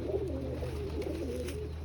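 A short stretch of pigeons cooing, several birds' low throaty coos overlapping in a continuous close murmur.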